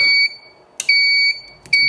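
A repaired Volt Polska UPS-500LU unit starting up, giving loud electronic beeps: a long tone, a pause, then two more sustained beeps with clicks between, close and clear without talking.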